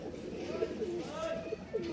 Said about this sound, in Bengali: জোড়া কবুতর দেখতে পাচ্ছেন মাশাল্লাহ